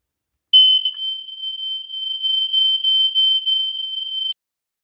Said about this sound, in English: Now this is a EI electronic smoke alarm.